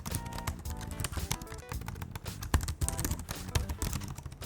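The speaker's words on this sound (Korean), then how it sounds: "제가 타건감을 느낄 수 있도록 한번 ASMR을 들려드리도록 하겠습니다" Close, rapid keystrokes on an LG Ultra PC Edge laptop keyboard, a dense run of light clicks and taps with an irregular rhythm and no voice.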